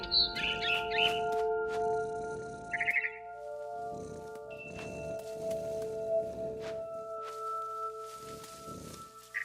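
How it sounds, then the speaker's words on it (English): A barn swallow chirps in the video game What Remains of Edith Finch, a few quick bright twittering bursts near the start over a quiet sustained musical drone. "Then I heard chirping outside my window. It was a barn swallow going back to her nest."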